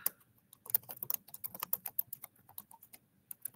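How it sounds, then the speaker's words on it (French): Rapid, irregular clicking of keys on a computer keyboard, a steady stream of close, quiet taps with brief pauses. "J'entends des bruits de clavier"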